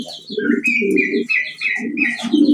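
Mundian pigeons cooing close by, with repeated loud, throaty rolling coos in an overlapping rhythm and no speech.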